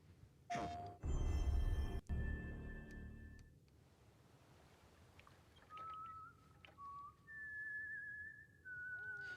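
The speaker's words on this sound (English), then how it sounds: "Whistling." Melodic human whistling from the Death Stranding 2 announcement trailer, a few sustained clear notes after a loud rushing burst, fairly quiet against a soft background.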